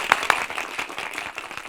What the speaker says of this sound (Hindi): क्या बात है, तालियां भाई, तालियां।